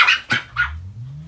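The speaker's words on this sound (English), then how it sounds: "Here's a dog that has way too much energy." A dog barks sharply two or three times in quick succession, close and loud, followed by a low rumbling hum.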